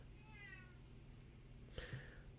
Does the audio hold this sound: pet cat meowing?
yes